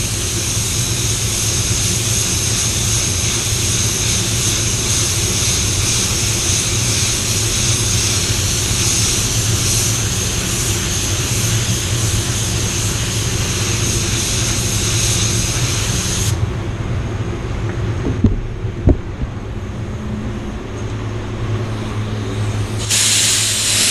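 Spray gun applying red multi-coat paint to a Tesla in a contained booth, a steady loud hissing spray that runs continuously, briefly cuts out with a few clicks near the end, then resumes.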